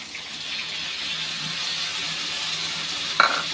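Turmeric and spices fry in a pan where eggplant was just fried, a steady, fairly loud sizzling hiss that runs throughout, ending in a sharp metallic clink near the end.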